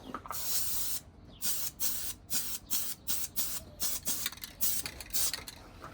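Spray gun laying a light flash coat of paint on a car, a series of hissing bursts in quick, regular pulses with brief gaps between passes, fairly quiet and close.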